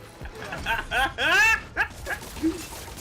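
A stray dog in a video game barks and yips in several short, clustered bursts, then gives a faint whimpering whine near the end, heard fairly close and without talk.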